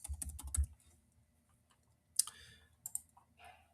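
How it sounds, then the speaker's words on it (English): Quick bursts of keystrokes on a computer keyboard: a cluster of light clicks, a short pause, then a few more taps, all quiet and close with no talking. "In this one, I'm going to type kitchen."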